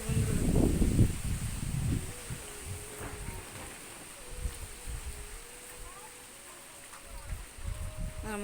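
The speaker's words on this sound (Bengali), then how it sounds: "দেখুন বৃষ্টি পড়ছে" Rain falls during a storm outside a rural home, a soft broadband wash of drops heard faintly beneath voices, with heavier rustling and low rumbling at the start.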